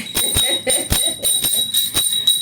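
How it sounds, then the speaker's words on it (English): A small bell rung repeatedly on a talk show set, sharp strikes spaced about every quarter to half second with a steady bright ringing tone sustained throughout, fairly loud and close. "let me ring the bell for you"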